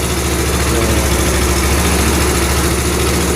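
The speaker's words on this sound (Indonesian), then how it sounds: "motor pun langsung hidup ya" A Yamaha Mio motor scooter engine idles steadily up close, with a continuous loud buzzing rattle that neither rises nor fades.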